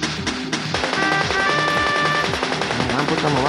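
Rapid automatic gunfire from the worm combat video game Annelids, a dense, continuous rattle of shots with tonal game effects layered over it, loud and unbroken.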